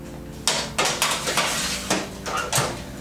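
A tray of falafel slides into a small toaster oven, giving a string of metallic clanks and scrapes from the tray and rack, several sharp knocks spaced across a few seconds, close and fairly loud.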